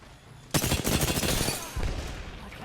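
Automatic gunfire in the video game Apex Legends erupts suddenly as a loud, dense burst of rapid shots lasting about a second, followed by a second, lighter volley that trails off.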